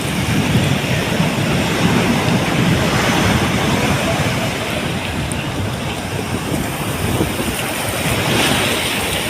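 Steady roar of surf washing onto a beach, continuous and fairly loud, with wind buffeting the microphone throughout.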